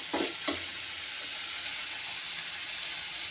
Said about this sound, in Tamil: மஞ்சள் தூள் போட்டு நல்லா கிளறி விட்டுக்க வேண்டியதான்.